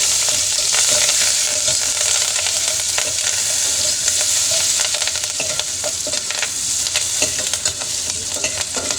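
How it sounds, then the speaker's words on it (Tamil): Green chili, coriander and curry leaves sauté in hot oil with a constant loud sizzle, punctuated by irregular clinks and scrapes of a spoon stirring the pan, with no talking. "பச்சை மிளகாய் கொத்தமல்லி கருவேப்பிலை சேர்த்து வதக்கணும்"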